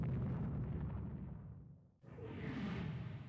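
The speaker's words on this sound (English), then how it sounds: "Taking more gunfire, turning away." Naval gunfire striking a ship in the warship strategy game Rule the Waves 2: a heavy rumbling blast that fades out, then a sharp new impact with a bright, hissing burst, loud and without talk.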